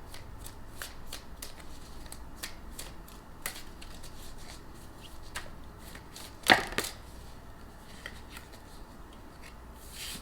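Tarot cards being shuffled for a reading, a soft continuous riffling and sliding of cards with a sharper snap partway through, close and fairly quiet with no talking.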